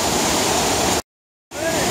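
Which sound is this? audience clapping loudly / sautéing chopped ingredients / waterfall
waterfall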